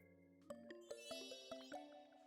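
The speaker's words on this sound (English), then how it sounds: "I hear bells for 12 o'clock." Bells chime for twelve o'clock in the Tomodachi Life video game, a faint, bright melodic sequence of about five struck chime notes in an even rhythm over a soft sustained tone, with no talk.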